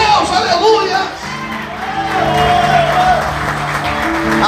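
A church congregation claps and cheers during a Portuguese-language worship service, a loud, steady wash of applause mixed with shouts and crowd murmur, with a preacher's voice carrying over it.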